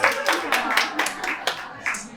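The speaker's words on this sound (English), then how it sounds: "Let's give her a round of applause." Audience applause at a New York Fashion Week panel on fashion and motherhood in a lounge, a short burst of clapping about two seconds long, moderately loud and close, with speech-like voices mixed in.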